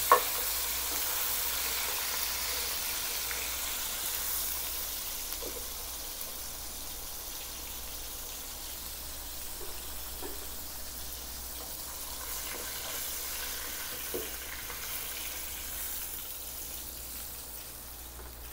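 Chicken pieces frying in oil until golden brown, giving a steady soft sizzle throughout with faint stirring clicks and scrapes, no talking.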